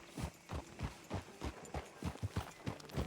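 Horse hooves clip-clop at a steady walking pace in Red Dead Redemption 2, a run of evenly spaced, fairly close thuds over a low background hum, with no talking.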